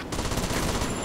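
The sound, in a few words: gunfire from shooting in a video game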